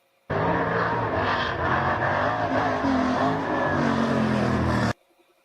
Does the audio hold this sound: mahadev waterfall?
no